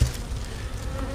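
A dense, steady buzz of many bees in a full hive box during a hive inspection, loud and close, filling the whole moment without pause.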